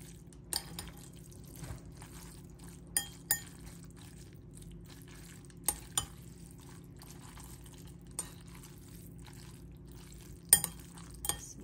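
Sauce being mixed with corn syrup sweetener in a small bowl, a quiet stirring with scattered sharp clinks of utensil against the dish, faint and irregular, with no talking.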